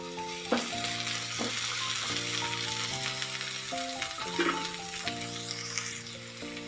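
Onions and tomato fry in a pan for street-style bun masala, a continuous sizzle with occasional stirring clatter under steady background music.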